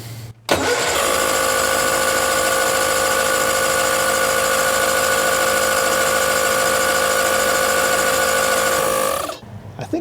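A repaired Argo amphibious vehicle engine starts and runs steadily at a loud, close idle for about nine seconds, a dense buzzing mechanical drone, then cuts off abruptly.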